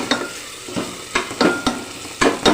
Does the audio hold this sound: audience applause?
no